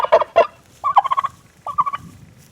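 Turkey toms gobble in a garden near wheat fields, three loud rattling gobbles in quick succession, close by, with faint background noise.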